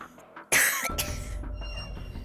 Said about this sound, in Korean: 기침이 정말 심했죠